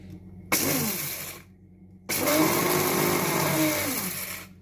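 A small compact grinder whirs through toasted rice for larb in two loud motor bursts, a short one and then a longer steady run, with quiet between them.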